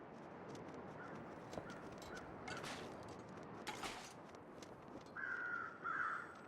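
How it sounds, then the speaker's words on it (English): Crows caw in a snowy wilderness in the survival game The Long Dark, a few short calls standing out near the end over a steady windy background. "Okay, the crows are still there."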